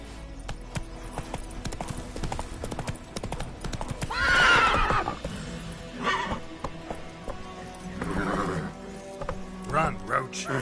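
In The Witcher 3, the horse Roach gallops with steady, rapid clip-clopping hooves under game sounds and music. A loud whinny rises midway through. Voices talk over parts of it.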